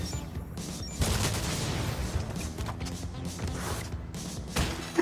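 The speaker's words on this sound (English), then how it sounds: "An explosion!" Explosion in Crash Bandicoot 3 on PC, a dense burst of booming, crackling blasts and thuds with continuous game music and effects rolling underneath, loud throughout.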